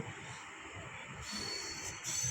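Passenger train running out of Coimbatore Junction toward Mettupalayam, a steady low rumble of wheels on rail with a faint high hiss, continuous and moderately close, no talk.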